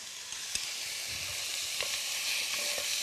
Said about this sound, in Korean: 이제 고기도 넣고 같이 볶아주도록 할 거예요.